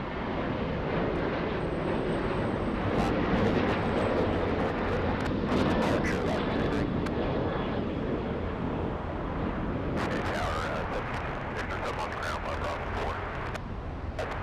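An Alaska Airlines jet takes off from LAX bound for Seattle, its engines a steady broad roar held for the whole stretch with faint higher whines and crackle over the top.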